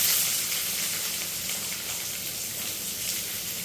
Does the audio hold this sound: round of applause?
no